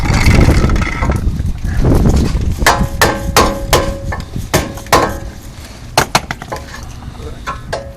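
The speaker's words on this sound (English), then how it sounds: "You could always just hammer it right off." Heavy metal clanging as a hammer strikes a Toyota 4Runner front brake rotor repeatedly at close range, sharp ringing impacts in an uneven rhythm after a stretch of rumbling noise.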